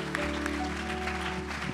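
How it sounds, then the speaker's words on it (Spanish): Church congregation applauding during a Spanish-language service, a steady wash of clapping that fills the brief moment without a break. "Dale un fuerte aplauso."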